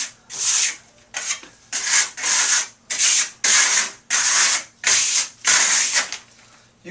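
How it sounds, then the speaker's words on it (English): A trowel scrapes Firenzecolor Mi-Ku metallic plaster onto a wall in a skip trowel technique, giving nine loud, rasping strokes in a steady rhythm with brief pauses between each pass, close up and with no voices. "I'm going to do a skip trowel technique, basically."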